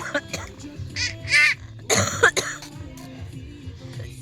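A pregnant woman coughing in short, sharp bursts, close by, mixed with quieter talk and background voices.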